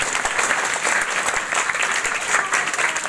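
Audience applause welcoming a guest speaker at a Makar Sankranti morning school event, steady dense clapping from a crowd sustained throughout without pause.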